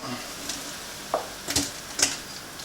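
Fish sizzling and frying in a pan for a curry, a steady low hiss broken by a few sharp stirring scrapes and clinks spaced through the short stretch, close and fairly quiet with no talking.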